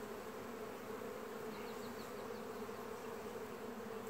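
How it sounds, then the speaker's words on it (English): Dense, steady buzzing of many honeybees at an open hive with a small feral queen, a continuous droning hum close to the listener with no talk. "Man, there's just so many bees"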